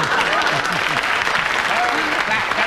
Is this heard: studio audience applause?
yes